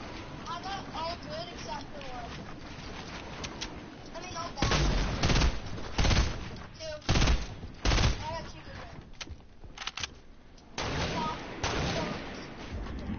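Semi-automatic gunfire crackles in a Fortnite duos match, bursts of sharp shots arriving in clusters and loud near volleys, mixed with game sounds while players talk over it.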